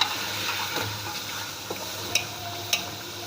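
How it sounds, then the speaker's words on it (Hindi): Meat and spices frying in a pot for nahari, a steady close sizzle with scraping stirs and a few sharp clinks of the spoon against the pot. "ये भून रहा है, अभी थोड़ी देर इसको हम भूनेंगे"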